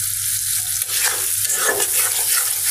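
Chopped onion frying with salt in a pan for a giant prawn bhuna curry gives a steady, close hiss of sizzling, with soft stirring scrapes rising and falling over the frying noise.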